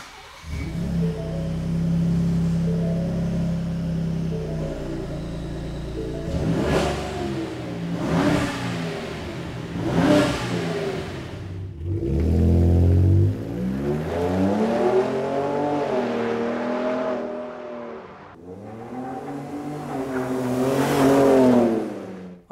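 A 2017–2019 Ford F-150 Raptor with a Corsa X-pipe resonator delete exhaust idles, then revs repeatedly in several rising and falling bursts, loud and close, ending with a long hard rev.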